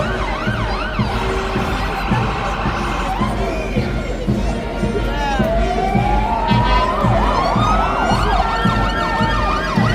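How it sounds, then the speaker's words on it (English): Several sirens wail at once over a noisy crowd at a St Patrick's Day parade in Drogheda, Ireland, their rising and falling tones overlapping and sweeping, loud and fairly close amid a general din. "above the din of the sirens"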